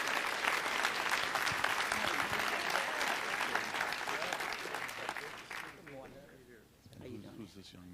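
A city council meeting audience applauds Kathy Watson, a sustained round of clapping that thins out after about five seconds, with a voice speaking over the fading claps near the end.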